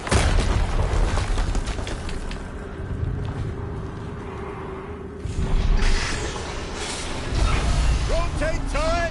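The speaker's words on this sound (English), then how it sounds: "Another explosion." Explosions in the Horizon Zero Dawn Remastered video game, several heavy booms and rumbling bursts rising and falling over a few seconds, mixed with in-game voices and mechanical noise.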